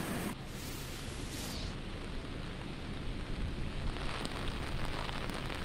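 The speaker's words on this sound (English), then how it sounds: "the rain just consistently continues to fall into this area" Heavy rain from Hurricane Helene pouring steadily in the North Carolina mountains during flash flooding, a dense continuous hiss close at hand with no talk.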